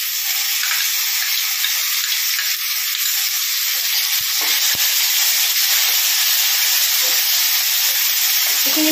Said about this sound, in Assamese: এইখিনি ভালকৈ ভাজি ল'ব লাগিব।